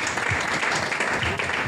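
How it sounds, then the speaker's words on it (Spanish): A short burst of applause at a press conference presenting a seniors tennis masters event in Marbella, a dense, even patter of many hands. "Muchísimas gracias, Tony, fuerte aplauso"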